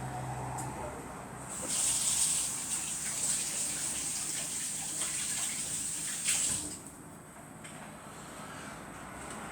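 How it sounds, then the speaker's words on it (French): Tap water runs while hands are washed. The flow is quiet, swells into a fuller gush for a few seconds in the middle, then eases back to a softer trickle. "Maintenant, on va se laver les mains."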